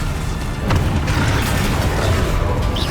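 Confringo spell explosions in Hogwarts Legacy, a dense booming blast with crackling bursts layered over a continuous loud roar, sustained throughout with small sharp pops near the start and middle.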